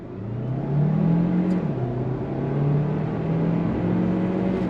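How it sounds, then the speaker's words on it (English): A 2025 Kia Sportage plug-in hybrid SUV accelerates hard in sport mode, a steady engine drone climbing and stepping through gears, with whirring electric-motor tones, up close and continuous without talking. "And we'll go on throttle again in sport mode."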